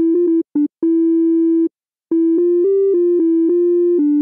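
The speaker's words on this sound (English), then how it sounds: "When you load Omnivocal and you record enable it, you get this sine wave sound." Yamaha Omnivocal in Cubase 15 gives a pure sine-like tone played as a short melody of held notes and quick stabs, with brief gaps and one pause, clean and alone.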